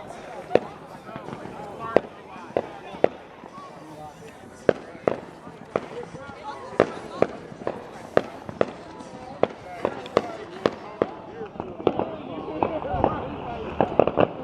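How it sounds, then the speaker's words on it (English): Independence Day fireworks bursting one after another, sharp loud bangs at irregular intervals of roughly a second, some followed by crackling tails, with people talking and exclaiming between the blasts. "The fireworks."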